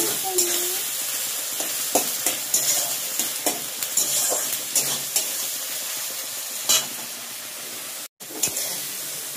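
Ginger paste and spice masala fry in hot oil in a pan, with a steady close sizzle broken by repeated scraping stirring strokes throughout and a brief gap near the end.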